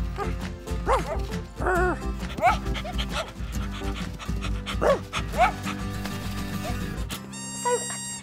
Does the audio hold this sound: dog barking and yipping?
yes